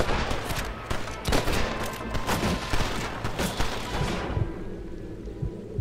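Heavy, rapid gunfire from a Red Dead Redemption shootout rattles continuously at close range, dense overlapping shots building in intensity before trailing off into quieter reverberation near the end.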